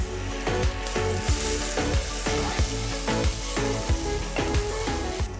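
Ginger garlic paste and slit green chilies frying in hot oil in a pan, a loud steady sizzle with rhythmic stirring scrapes every half second, close and continuous without speech.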